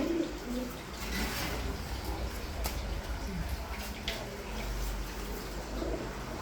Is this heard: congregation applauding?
no